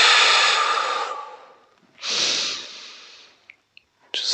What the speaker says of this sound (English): Big deep breath in through the nose, out through the nose or mouth